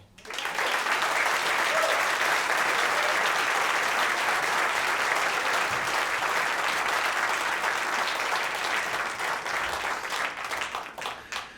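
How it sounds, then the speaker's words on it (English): A studio audience at an on-stage interview gives sustained, loud applause that swells quickly and holds steady for about ten seconds before tapering, with faint voices underneath. "Please welcome to eTown from Golden, Colorado, Lisa Morey"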